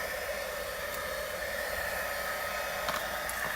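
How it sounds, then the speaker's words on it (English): A craft heat tool blows steadily during a stamping project, an even, fairly faint fan-like hiss and whir held unchanged throughout. "And then I take the heat tool"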